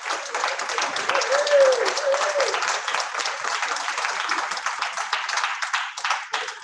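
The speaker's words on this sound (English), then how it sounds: "Can we have an applause for Sarah, please?" A room at a Forest Gate and Maryland community assembly applauds Sarah, steady crowd clapping of moderate loudness lasting several seconds, with a voice briefly heard over it early on.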